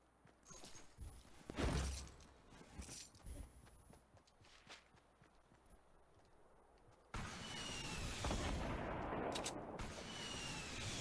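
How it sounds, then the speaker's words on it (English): Rockets being fired in a Fortnite Battle Royale match, heard as scattered thuds and blasts, then a sharp loud rocket launch followed by a sustained rushing roar, with intermittent footsteps and game noise. "Who's shooting rockets?"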